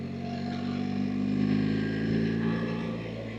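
A BMW R 1300 GSA automatic motorcycle engine hums steadily while riding, a droning mid-low tone with faint swells in intensity, mixed with wind noise and held close and continuous throughout.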